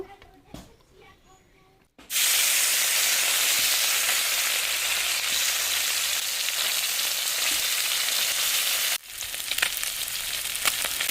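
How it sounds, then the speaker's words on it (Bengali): Pieces of turmeric- and salt-rubbed mourala fish drop into hot oil and set off a sudden, loud, sustained sizzle that hisses evenly for several seconds, then eases to softer frying with stirring scrapes. "তেলটা গরম হয়ে গেছে, এবার মাছগুলো দিয়ে দেব।"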